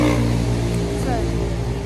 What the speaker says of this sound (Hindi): बड़ी तेज आवाज थी इस बाइक की